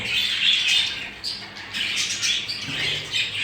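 Show budgerigars, a nesting breeding pair, squawk and chatter continuously at close range with bright, scratchy calls. No speech.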